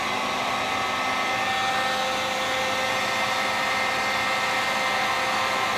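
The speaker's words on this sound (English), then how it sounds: "So you could try to put a heat gun on it." Heat gun blowing steadily up close while warming the edges of Monokote covering on a model airplane, a loud continuous whooshing, whining roar with no pauses or talk.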